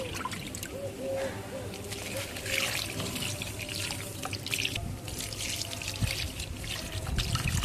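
Mustard oil cake fertilizer is stirred slowly into water in a rooftop garden container, giving continuous close sloshing, trickling and splashing sounds, with a voice talking quietly at times.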